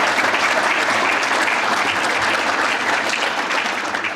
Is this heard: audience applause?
yes